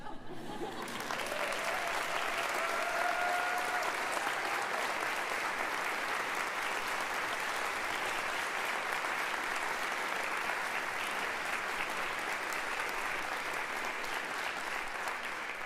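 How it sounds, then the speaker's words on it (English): An audience applauding at a university commencement ceremony, a long, dense wash of clapping that swells in quickly and holds steady throughout, large and hall-filling. "So we're all just going to clap for a minute."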